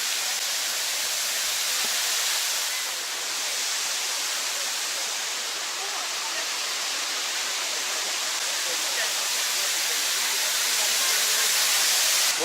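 Dzhur-Dzhur waterfall in June, a loud, steady roar of falling water filling the scene continuously and close by, with no break in the dense rushing noise.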